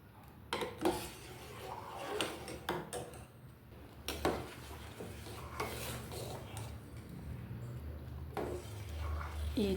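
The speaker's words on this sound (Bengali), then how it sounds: "তো এটা এবার মাঝে মাঝে নাড়তে থাকবো" A spoon scrapes and clinks against a pot as payesh, a Bengali rice pudding, is stirred at home. Irregular nearby scrapes and taps repeat over a low background hum.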